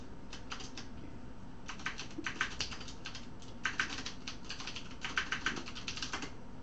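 Rapid bursts of computer keyboard typing as notes are entered, clattering in uneven runs of keystrokes with short pauses between, fairly close and alone without any talk.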